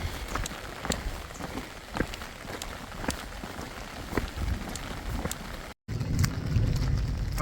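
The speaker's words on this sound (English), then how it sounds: "The rain kicked in." Rain in Pearisburg, Virginia patters steadily with scattered sharper drops ticking nearby, a brief dropout, then a heavier rush of rain and wind.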